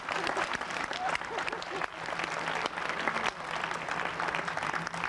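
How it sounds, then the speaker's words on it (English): Audience applause at a community college's 25th anniversary celebration, a steady dense wash of clapping sustained throughout, with faint voices mixed beneath it. "let me first ask you to give a round of applause"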